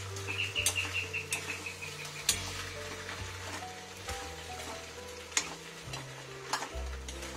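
Macaroni pasta with pasta masala being stirred in a pan over a low gas flame: a soft sizzle with repeated scraping spoon strokes and a few sharper knocks, close up, with faint bird chirps in the background.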